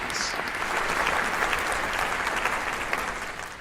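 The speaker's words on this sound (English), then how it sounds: "And now, please give a big round of applause for the Runaways." Full, steady applause from a theater audience for the performers in a staging of As You Like It, a dense continuous roar of clapping that holds evenly and only eases slightly at the end.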